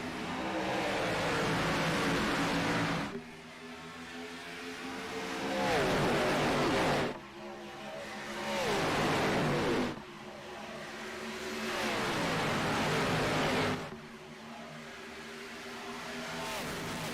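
Simulated stock cars roar around Las Vegas Motor Speedway in an online Xfinity Series video-game race, engines loud and close with rising, harmonic revs that surge and drop in repeated cycles of about three to four seconds as cars accelerate and shift.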